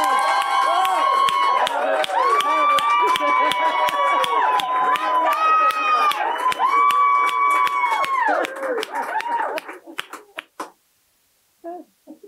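A cheer squad cheers and shouts in unison at a Women in Gold diversity debate in Sydney, a loud, continuous chanted cheer with rhythmic claps and stamps that breaks off into quick bursts and fades to silence near the end.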